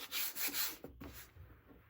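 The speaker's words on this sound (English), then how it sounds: "All right. Rub it down." Fabric is rubbed down by hand onto a flying geese cutting die for an AccuQuilt Go! electric fabric cutter, a soft, quiet rhythmic rubbing of several close strokes, alone without talk.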